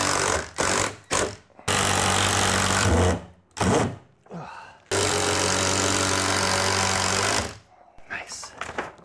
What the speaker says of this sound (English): Now I'm going to get some 3-inch screws and attach this framing.